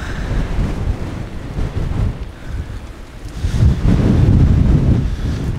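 Gusty ocean wind rumbling against the microphone in uneven surges, easing briefly then building to a heavier, sustained roar near the end, with no one speaking.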